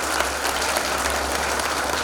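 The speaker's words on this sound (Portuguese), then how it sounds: "Uma salva de palmas para todos vocês." A hall full of audience members at an anti-drug lecture applauds with dense, steady clapping that stays loud and even throughout.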